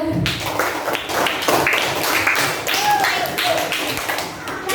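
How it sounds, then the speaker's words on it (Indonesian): Students in an elementary school classroom clap for a classmate named Nada, a dense, steady patter of many hands lasting several seconds, with scattered voices underneath. "Tepuk tangan buat Nada"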